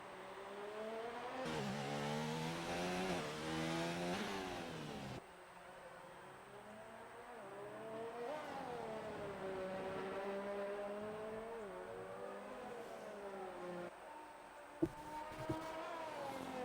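In a simulated race at Hungary, a race car engine howls through its gears, with repeated rising revs, downshifts and falling pitch as it brakes and accelerates around corners, steady and fairly close, with a couple of sharp knocks near the end.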